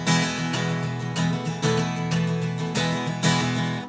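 Guitar strummed quickly in steady sixteenth notes, dense chords with regular accented attacks about every half second, loud and close with no voices.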